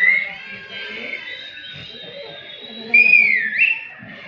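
Audience members at a school annual function whistle with several shrill, wavering tones that rise and fall over faint background chatter, one whistle swelling louder near the end.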